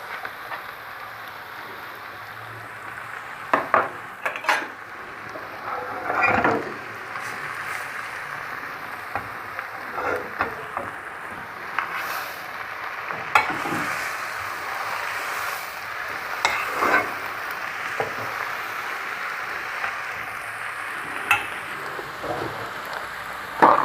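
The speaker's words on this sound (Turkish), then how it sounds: "Şimdi malzemeyi yani hol ilave ediyoruz." Holbor greens go into a pan of hot oil and onions and are stirred, producing a soft sizzling hiss punctuated by irregular bursts of scraping and clattering strokes, fairly close and uneven in loudness.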